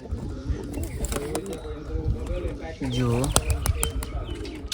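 Pigeons in a home loft setup coo and chirp in short bursts close by, mixed with someone talking over them.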